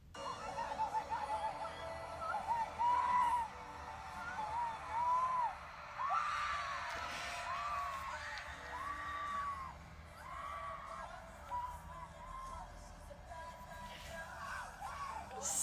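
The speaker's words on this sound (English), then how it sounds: "fair warning, you're about to hear a lot of screaming." Stadium crowd noise at a concert at MetLife Stadium, with high-pitched shrieks and squeals rising and falling in bursts, moderately distant, alongside scattered laughter and excited yelling.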